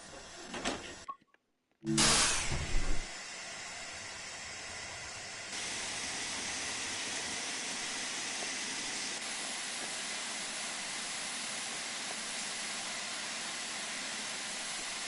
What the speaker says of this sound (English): Right, we got a steam locomotive.